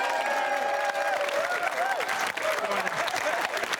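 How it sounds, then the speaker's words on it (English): A television comedy panel show's studio audience claps loudly and continuously, with a few cheers, while a voice talks over the applause. "keep that applause going for Team 2"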